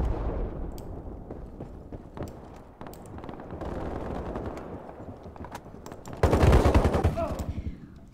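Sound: gunfire in video game Ironsights

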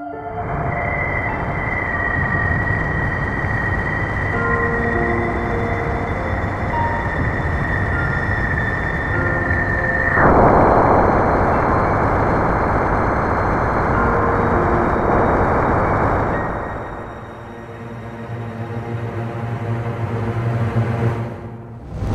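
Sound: sonified Jovian bow shock plasma waves

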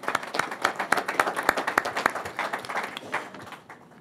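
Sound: audience applause

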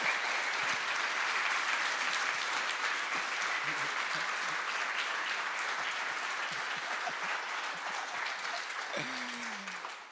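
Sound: audience applause for Andy

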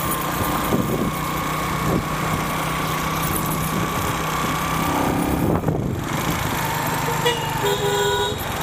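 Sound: street traffic with car horns honking in Cairo

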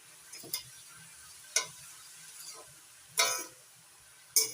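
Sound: stirring spinach with turmeric powder in a pan

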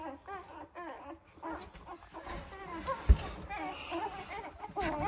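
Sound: newborn pitbull puppies whimpering while nursing

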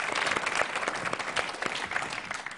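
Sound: audience applause for Bang Mudi

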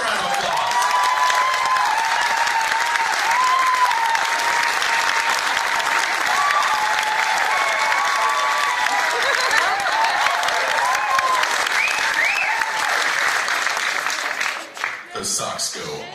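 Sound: audience applause and cheering

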